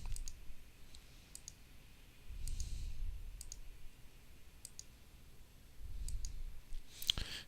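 A computer mouse clicks repeatedly while tracing around an area in mapping software, giving sharp, close, evenly spaced clicks in a quiet room.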